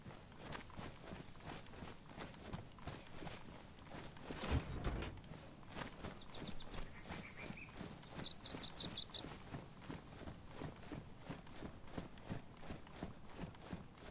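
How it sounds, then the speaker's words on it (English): A bird call in the video game DayZ rises as a brief burst of high chirps partway through, over the steady rhythmic patter of a character's running footsteps. "That sound behind me, that was like a fruit bird."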